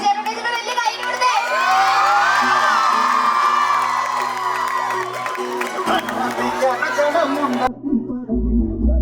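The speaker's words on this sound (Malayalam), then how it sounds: "ഉണ്ണിച്ചേട്ടൻ്റെ ഇതിന് വലിയ കൈയടി കൊടുത്തേ" A college crowd greets Unni Mukundan with loud cheering, whoops and shouting that swell and hold, then break off abruptly near the end.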